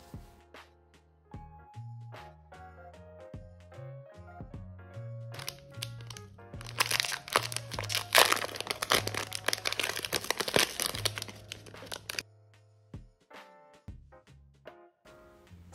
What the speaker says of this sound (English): I'm gonna try the scissors.